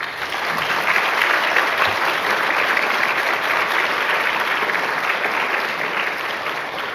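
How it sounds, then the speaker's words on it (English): Loud, sustained applause from a large conference plenary audience, steady clapping filling the whole stretch without letup. "please give a massive round of applause to our panel"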